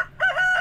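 A rooster crows in the Stardew Valley farming game, one short, loud, close call with a rising then sustained tone, heard alone with no talk.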